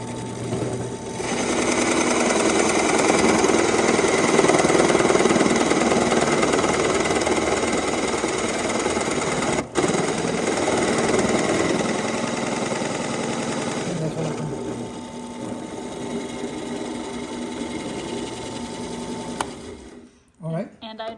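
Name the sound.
drill press running in wood shop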